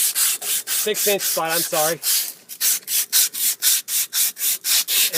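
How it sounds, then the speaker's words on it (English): Sandpaper scrubbed back and forth over an old, green-corroded copper pipe to clean it before sweating a joint, a loud, close, steady rasping rhythm of strokes; someone speaks briefly over the first half. "just take your sandpaper and be generous"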